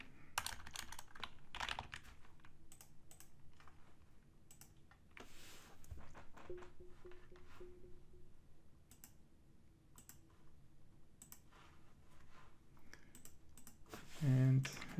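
Computer keyboard typing during Azure virtual machine setup, a run of light clicking keystrokes in bursts at close range, with soft talk and background noise around it.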